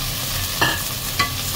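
Onion, ginger and tomato sautéing in a pan, a steady low sizzle broken by two quick scraping stirs, close and clear with no voices.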